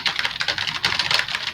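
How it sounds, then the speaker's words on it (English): Rapid clattering keystrokes on a computer keyboard, steady and close, with no voices over the typing. "we can hear your keyboard"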